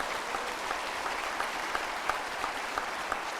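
An audience at a bank president's investiture claps for the bank staff and president, giving steady, dense applause with sharper individual claps showing through.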